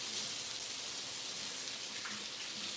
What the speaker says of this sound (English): I'll give my hands a quick rinse.